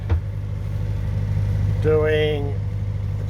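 A boat engine running steadily at 1500 rpm, a constant low hum heard under a man's brief speech, with a short tonal beep partway through.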